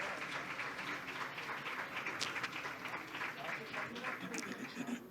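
An audience applauds the translator Stephanie at a book fair event, a sustained moderate patter of clapping with a few brief voices mixed in.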